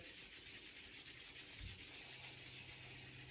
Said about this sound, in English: You could bend the arms and rub the palms of the hands together.